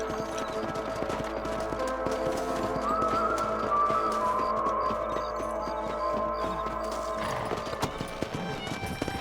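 Horse hooves clip-clopping at a gallop in the Western video game Red Dead Redemption, a steady rhythmic beat under game music and sound effects, with an occasional whinny and a louder rustle near the end.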